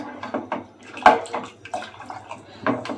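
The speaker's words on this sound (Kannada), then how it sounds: "ಇವಾಗ ಸಾಂಬಾರಿಗೆ ನೀರು ಎಷ್ಟು ಬೇಕು ನೋಡ್ಕೊಂಡು ಹಾಕ್ತಾಯಿದ್ದೀನಿ." Water poured by hand into a pot of horse gram sambar, splashing and gurgling in uneven bursts at close range, with no talk over it.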